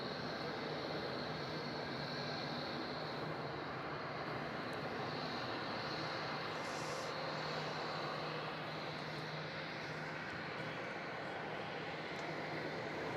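Qantas jet airliner starting its takeoff roll to Perth at Melbourne Airport, a faint, distant steady engine rumble with a thin whine, no one speaking.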